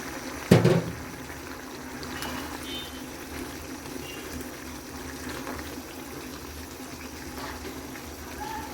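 A pot of curry simmers and bubbles on the stove, a steady soft wash of boiling liquid with one brief louder knock near the start and no voices.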